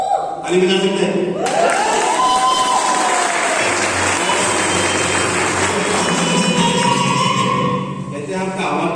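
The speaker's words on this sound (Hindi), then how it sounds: "ताली बजा सकते हैं?" A large indoor crowd at a motivational business seminar breaks into loud, sustained clapping with scattered cheers and whoops, dense and close for several seconds before tapering slightly at the end.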